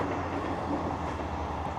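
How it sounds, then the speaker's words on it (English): A train rumbles past nearby near a WW1 gun emplacement bunker, a steady low rolling roar with faint rail clatter throughout, with no voices. "Ooh, I can hear a train. We're obviously near the trains."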